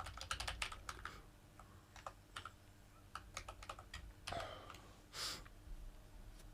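Computer keyboard keys clack in quick bursts of typing, close and crisp, with pauses between runs and a few soft breaths, no talking.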